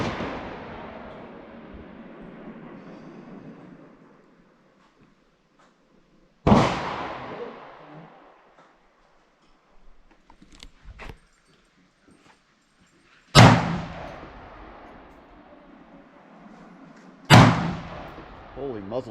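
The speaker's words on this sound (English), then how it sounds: "Holy muzzle flash, Batman" Three loud, sharp gunshots from a Springfield Armory Saint Victory rifle, spaced several seconds apart, each with a ringing tail, following a fading earlier report and faint scattered background noises.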